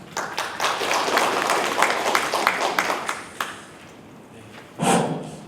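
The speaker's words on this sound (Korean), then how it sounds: "박수로 맞이해 주시면 고맙겠습니다" Audience clapping welcomes a panelist at a Korean panel discussion, scattered distinct claps building into applause, then fading to a few taps, with a brief louder burst near the end.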